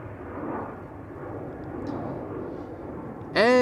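A Vueling Airbus A320 bound for Bilbao lines up on the center runway at Amsterdam Schiphol, heard as a steady, fairly distant broadband jet engine rumble that holds even throughout, with a sudden brief clatter at the very end.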